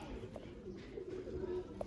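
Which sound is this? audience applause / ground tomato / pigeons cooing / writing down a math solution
pigeons cooing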